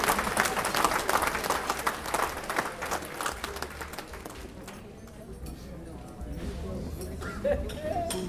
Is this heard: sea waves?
no